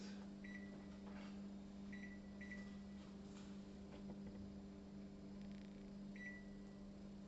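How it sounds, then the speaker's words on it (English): A microwave oven runs with a steady, continuous hum at moderate level throughout, with a few faint short beeps and clicks near the start and near the end, and no talking. "I'm going to put it in the microwave"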